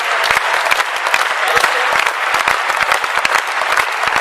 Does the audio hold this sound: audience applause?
yes